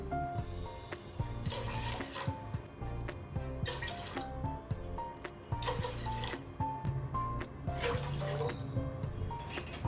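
Water trickles and splashes into a pot in a few separate pours for dal khichdi, close by and fairly quiet, with light clinks between them.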